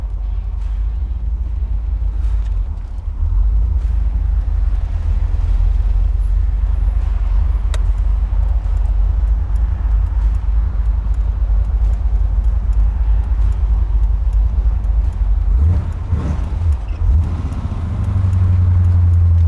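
A 1975 Corvette runs and drives, its engine humming low and steady from inside with constant road rumble, a few clicks and knocks, and a surge of revs near the end.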